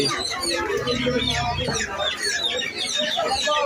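Busy fish and poultry market ambience in Noakhali, Bangladesh, with chickens clucking and squawking close by, mixed with people talking in the background.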